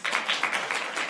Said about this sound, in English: deserves that round of applause